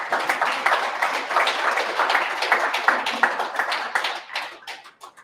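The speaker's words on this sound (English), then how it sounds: "Can I have a big round of applause, please, for my panelists?" An event audience applauds the panelists of an e-commerce discussion, a full round of brisk clapping from many people that holds steady and then tapers off and fades near the end.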